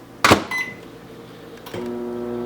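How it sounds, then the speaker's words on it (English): A sharp click of a door or button, a brief beep, then a microwave oven starts up with a steady low hum. "I'm going to put it on a couple minutes, 2-3 minutes in the microwave."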